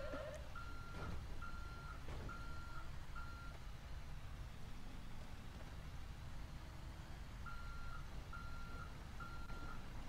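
Truck reversing beeps in a video game sound in two runs of evenly spaced electronic tones, four beeps each, with a break between, over a low engine rumble at quiet level, with no talking.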